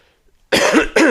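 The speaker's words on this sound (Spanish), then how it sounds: "me está entrando un poquito de tos" After a short silence, a presenter giving a talk coughs twice in quick succession, close, loud and raspy.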